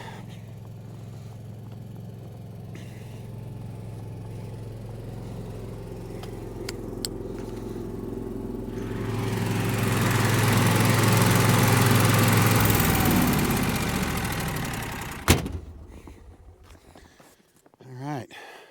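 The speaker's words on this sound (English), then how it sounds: "this generator's been running long enough" A generator engine drones steadily at a snowy sawmill, its rumble swelling louder for a few seconds before cutting off abruptly. Quiet shuffling and movement follow the shutdown.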